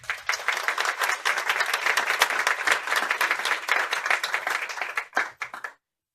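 An audience at a social work panel discussion applauds a speaker with steady, dense clapping for about five seconds before it trails off into silence.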